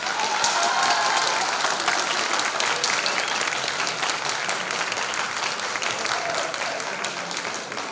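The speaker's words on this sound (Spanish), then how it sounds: "a quien recibimos con fuertes aplausos." Loud, sustained applause from an audience at an academic law colloquium, a thick continuous roar of many hands clapping that stays full for the whole stretch and fades only slightly at the end.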